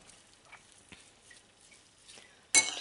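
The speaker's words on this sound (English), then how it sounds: "Just mix it in there." Cinnamon being stirred into an apple mixture for grain- and sugar-free apple pancakes, with soft, quiet scraping and stirring strokes at close range that end in a sudden louder clink or scrape.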